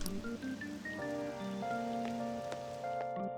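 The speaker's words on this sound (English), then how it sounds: "Yeah, it's just gonna be raining for a while, I guess." Rain falls steadily in the video game Persona 5 Royal, a soft continuous patter layered under sustained melodic background music and game tones.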